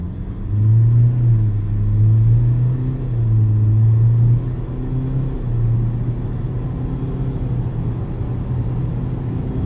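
A 2023 Ford Ranger Wildtrak X with a 2-liter bi-turbo diesel launches hard, its engine droning loudly and steadily as it climbs through the revs and settles into a constant roar.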